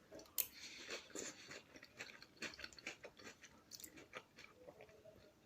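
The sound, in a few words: crunchy chewing of crispy chilli shredded beef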